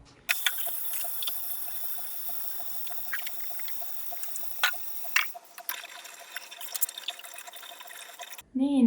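Water is poured onto tomato plants in a greenhouse, a thin, steady trickle and splash running for several seconds with occasional louder spatters, fairly quiet and close, ending abruptly.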